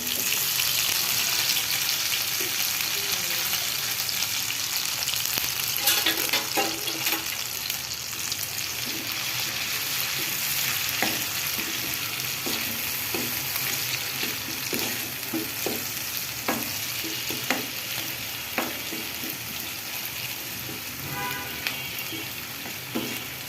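Ginger garlic paste fries in hot oil with a little salt in a pan, a steady dense sizzle throughout with occasional scraping stirs, close and continuous with no talking.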